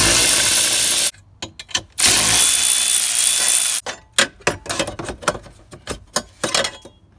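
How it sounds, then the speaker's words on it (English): A socket wrench with an extension removes a 10mm nut from a car's steering column bar, giving two long, loud bursts of ratcheting broken by quieter gaps and a run of short clicks and clunks near the end. "There's 4 bolts or 4 nuts that hold it in using our 10mm socket with an extension."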